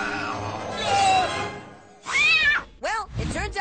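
A cat meows loudly several times in quick succession, rising and falling whines, following a stretch of busy background noise with voices.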